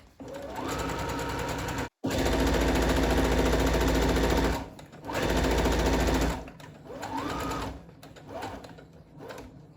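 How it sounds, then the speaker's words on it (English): A sewing machine runs in long continuous bursts while stitching across the bottom of a fabric tote bag, loud and near, with brief pauses between runs. "now we're sewing across the bottom of the bag"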